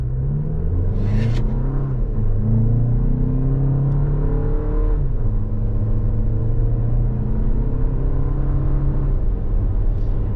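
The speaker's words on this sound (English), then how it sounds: "This is a pretty solid turbo 4 engine." A 2024 Toyota Grand Highlander XLE AWD with a turbo four-cylinder engine accelerates hard from inside the cabin. The loud engine drone climbs in pitch through several rising sweeps as the eight-speed automatic shifts up smoothly.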